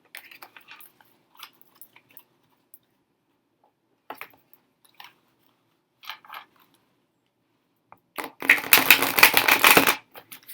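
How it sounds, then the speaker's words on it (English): A deck of tarot cards is shuffled in one dense riffle burst lasting about two seconds near the end, following scattered soft card taps and handling clicks earlier on. "I'm going to go ahead and shuffle him into the deck"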